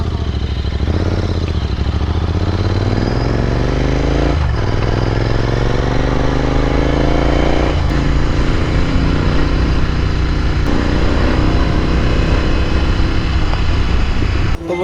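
A Royal Enfield GT650 motorcycle rides along with its engine droning loudly and steadily from close by, its pitch climbing and falling through repeated gear changes over the whole stretch.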